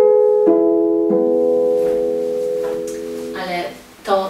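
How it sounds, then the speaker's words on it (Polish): Harp harmonics (flageolets): clear, bell-like plucked tones, a few single notes spaced about half a second apart that ring and decay, followed by brighter plucked notes near the end, close and moderately loud. "Pięknie na harfie brzmią również flażolety."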